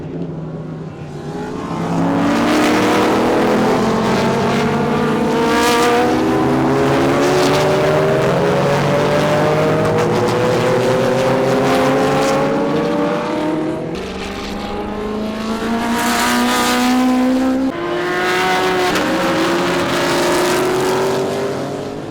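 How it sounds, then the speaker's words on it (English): Vintage race cars roar past the grandstands one after another, very loud and close, engines climbing through the gears in overlapping waves with rising pitch sweeps and no talking. "check out what the cars are like as they actually go by"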